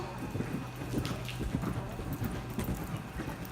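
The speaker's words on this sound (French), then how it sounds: "Galop en suspension." A horse canters in a riding clinic, its hooves thudding in a steady rhythmic clip-clop at moderate distance, with wind noise and an instructor's voice faintly in the background.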